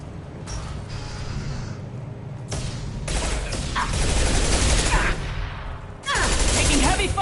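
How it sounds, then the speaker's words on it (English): Heavy gunfire in the Mass Effect video game, dense bursts of shots and explosive impacts rattling almost continuously at close range, with a brief lull before a final loud volley. "Taking heavy fire!"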